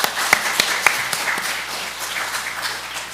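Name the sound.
congregation clapping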